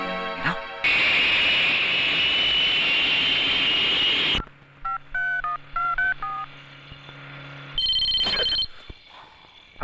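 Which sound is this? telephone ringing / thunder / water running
telephone ringing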